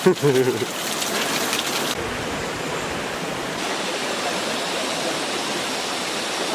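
Olon Halas waterfall in Barangay Caghalo, Carigara, Leyte, pours with a steady, full rushing roar close by, and a brief voice is heard at the very start.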